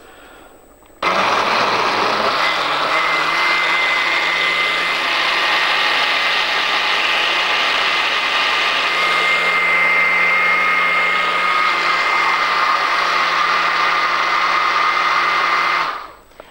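An electric mixer whips milk and other ingredients for a strawberry milkshake dessert, switching on abruptly with a loud, steady whirring drone that holds for about fifteen seconds before cutting off.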